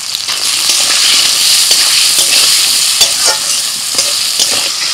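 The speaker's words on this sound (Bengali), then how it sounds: "ওই তেলের মধ্যে দিয়ে দিচ্ছি আলু, একটু লবণ, একটু হলুদ গুঁড়ো," Potatoes with salt and turmeric frying in hot oil while being stirred, a loud continuous sizzle broken by repeated scraping strokes of a spatula, close and with no voices.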